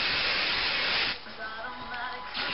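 A close, loud hairspray aerosol hiss blasts for about a second, pauses briefly, then sprays again in a short second burst.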